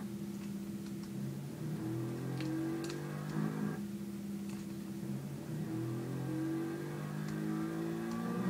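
Car engine in the Garry's Mod video game revving repeatedly, rising and falling mechanical whine at moderate loudness with a brief pause between surges and a few faint clicks.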